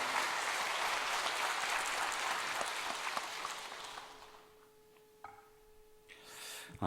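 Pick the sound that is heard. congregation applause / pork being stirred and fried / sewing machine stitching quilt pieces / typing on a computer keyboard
congregation applause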